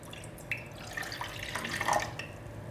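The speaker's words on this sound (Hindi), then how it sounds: "1 कप पानी ऐड करते हैं।" Water running from a tap into a cooking pot as a cup of water is added for tulsi and ginger tea, a steady close trickle and splash with no talk over it.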